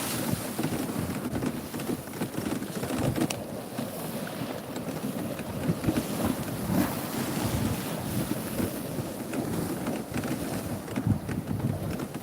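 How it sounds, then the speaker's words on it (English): Sea waves splash against a seaside promenade, a steady broadband wash under heavy wind buffeting on the microphone, with no voices. "Are you getting the noises of the waves splashing up?"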